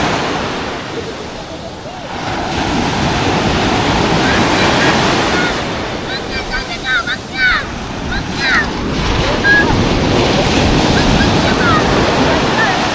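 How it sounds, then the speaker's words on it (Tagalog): Loud, continuous roar of ocean surf with heavy wind rumble, waves crashing close by, and faint voices briefly audible in the middle. "Ah, malaki alon!"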